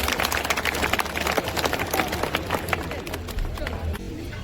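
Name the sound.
audience applause welcoming performers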